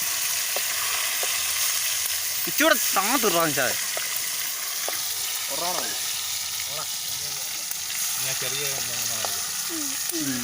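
Steady crackling sizzle of pieces frying in hot oil, with a voice speaking briefly over it.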